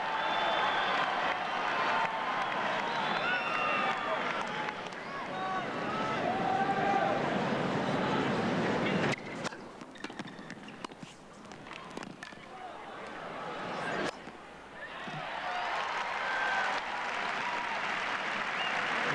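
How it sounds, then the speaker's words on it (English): A tennis crowd at the 1998 US Open quarterfinal applauds and cheers in a sustained, fairly loud wash of clapping, dipping briefly midway and then swelling again. "The crowd coming to life here at this critical juncture."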